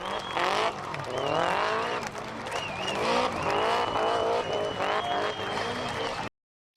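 Cars doing donuts at an Oran Park drift event, engines revving and wailing with long tire squeals and skids in close, continuous passes, crowd noise faintly underneath, cutting off abruptly near the end.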